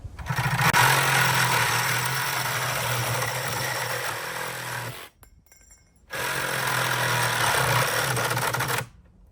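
A Dnipro-M cordless reciprocating saw cuts close and loud with a harsh, buzzing reciprocating drone, running about five seconds, stopping briefly, then cutting again for nearly three more seconds.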